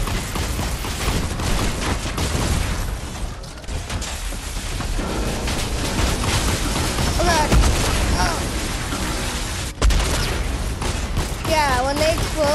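Rockets detonating in a video game, a continuous heavy barrage of booms and rumbling blasts with a brief dip before a fresh loud explosion, while voices talk and shout over the din.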